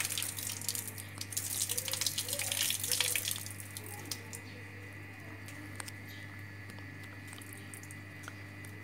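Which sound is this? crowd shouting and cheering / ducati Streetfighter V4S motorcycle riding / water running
water running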